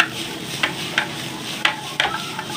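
Carrots stir-frying in a hot wok for fried rice, a steady close sizzle broken by several sharp scrapes of the spatula against the pan, with no talking.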